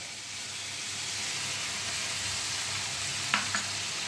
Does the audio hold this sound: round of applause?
no